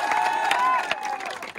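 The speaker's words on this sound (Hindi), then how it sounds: "दूसरे वाले को ताली बजाओ थोड़ा" A crowd at a patriotic gathering claps together, a dense, steady patter of many hands lasting a moment and fading slightly toward the end, with cheering and voices mixed in.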